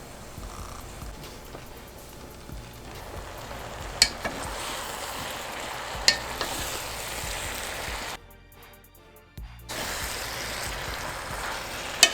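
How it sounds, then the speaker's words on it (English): Bacon and cabbage fry in a pan while being stirred together, giving a steady soft crackling sizzle with occasional utensil clicks and a brief quieter dip near the end. "Now you want to just start stirring it up, mixing everything together."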